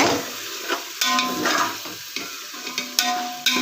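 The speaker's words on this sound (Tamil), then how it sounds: "நம்ம வேக வைத்த மட்டனை வந்து ஆட் பண்ண போகிறோம்" Boiled mutton being stirred through spices in a hot pan for Ambur mutton biryani, with steady close sizzling and frying and repeated scraping clatters of the spoon against the pan, no voices.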